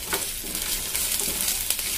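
Onions frying in a pan with ginger garlic paste, a steady close sizzle broken by scraping stirs.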